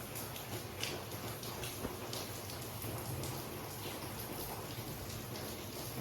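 Steady rain pours down in a dense, even hiss with scattered drops pattering close by; no voices.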